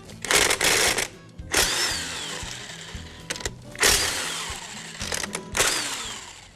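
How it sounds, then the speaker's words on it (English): Top cover bolts, 12mm, being spun out of an M5R2 manual transmission with a power tool, in several loud whirring bursts of a second or so each, separated by short quiet gaps, up close with no talking. "There's 10 12mm headed bolts that hold the top cover on an M5R2. So we're going to take those 10 bolts out."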